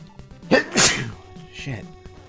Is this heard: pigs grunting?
no